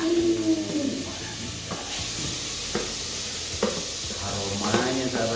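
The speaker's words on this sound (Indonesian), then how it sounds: "Nah, kita tumis sampai minyak samin atau margarin ini cair." Ghee or margarine sizzling as it is sautéed in a Sanken Supercom SJ 2500 cooker, a steady hiss with a few scrapes of stirring and faint voices in the background.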